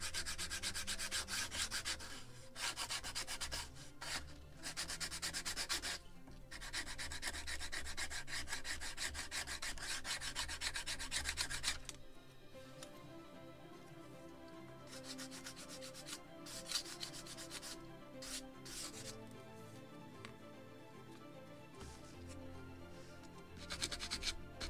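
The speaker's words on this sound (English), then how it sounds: "So I want to sand this part too." Sandpaper rubs a wooden part of a 1776 gunboat Philadelphia scale model in steady, close back-and-forth strokes, loud and continuous at first, then lighter and more broken with short pauses.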